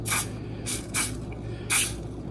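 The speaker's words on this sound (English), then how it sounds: "cookie scoop here a little spray" Cooking spray spritzed onto a cookie scoop for orange carrot cookies, four short hissing bursts, close and clear, over a faint low kitchen hum.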